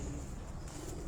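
Pigeons on a rooftop loft in Dhok Kala Khan, Rawalpindi, give soft, faint cooing calls against a quiet, steady background hiss.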